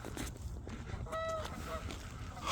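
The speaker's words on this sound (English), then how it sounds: "this Canada geese are back" Canada geese honking outdoors in late-winter snow, a few distinct nasal honks rising over steady background noise in the middle of the stretch.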